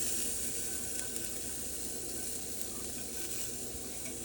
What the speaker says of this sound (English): Gonna saute this until it becomes nice and fragrant.